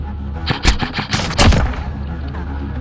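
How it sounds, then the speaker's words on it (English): Gunfire during Operation Dark Harvest, an airsoft-style skirmish: a few sharp, close bursts of rapid shots in quick succession over a steady background, with a voice partly audible. "Taking fire, taking fire."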